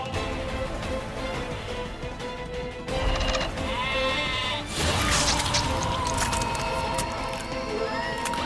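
Goat bleats rise over a dense, noisy background of music and sound, repeated wavering cries heard fairly loud in a dramatic television scene.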